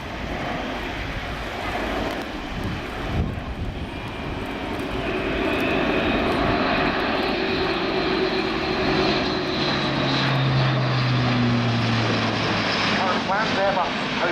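An Airbus A400M military transport aircraft in a flying display roars past with propeller engines, the drone swelling from moderate to loud and a falling pitch sweep as it passes, with a commentator talking over it.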